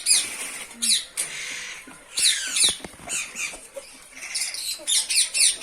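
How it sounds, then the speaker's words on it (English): Small white birds from Holland on a farm give sharp, high squawking and chirping calls in quick bursts, several close-by birds overlapping with brief pauses between, and no talking. "we are listening to all the beautiful music of the birds from all around"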